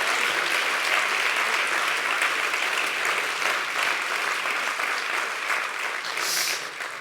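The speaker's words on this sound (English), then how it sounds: "Perhaps a round of applause for all of our finalists." An awards-ceremony audience gives sustained, even applause for the finalists, a dense roll of clapping from a large crowd that holds steady and only begins to ease near the end.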